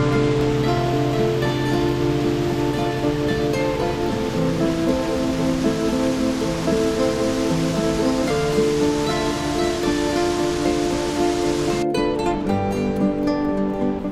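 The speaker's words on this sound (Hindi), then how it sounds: "बलोनगा की 3 झीलों से आता साफ शफाफ पानी तेजी से पत्थरों से सर पटकता अपनी मंजिल तांगीर" Clear water from the three Bolonogah lakes rushes hard over stones in a mountain stream heading toward Tangir nala, a loud, continuous broadband roar that stays close and steady throughout.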